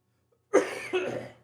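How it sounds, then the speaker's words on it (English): A single short cough bursts out close to the mic, followed by a second rougher throaty hack, against quiet room background. "That was a cough."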